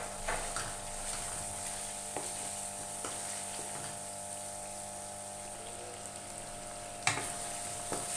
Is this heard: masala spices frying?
yes